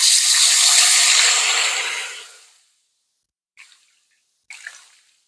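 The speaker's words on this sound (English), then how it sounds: "I'm going to start adding a little bit of chicken broth" Chicken broth made from water and bouillon granules pours into a pot in a steady splashing stream that tapers off, followed by silence and then two brief drips or splashes.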